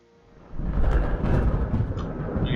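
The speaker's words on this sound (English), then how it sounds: "the thunder sound. Thunder I think is pretty good." An Unreal Engine game thunder effect rolls in after a quiet start, a deep and steady rumble that stays loud and sustained to the end.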